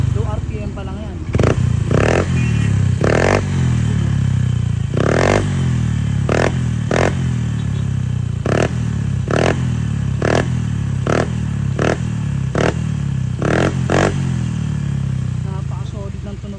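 Honda Click scooter fitted with an Apido V5 exhaust revving repeatedly close up, sharp throttle blips rising over a steady idle rumble in a quick, uneven rhythm.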